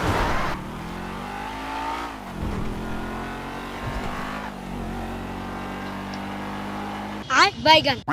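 Car engine from GTA 5 driving off-road, a steady droning hum throughout with shifting pitch, ending in a brief burst of louder, rougher revving; a voice talks over it.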